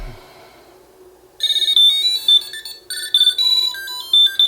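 After a faint quiet stretch, a Tile Slim wallet tracker rings underwater, a bright electronic melody ringing out loudly in repeated bursts, its chiming notes continuing to the end.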